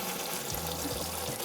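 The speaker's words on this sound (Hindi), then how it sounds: "पानी से इसको भर दें" Tap water runs steadily into a kitchen sink, filling it over a piece of hot charcoal, a continuous close rushing splash with no voices.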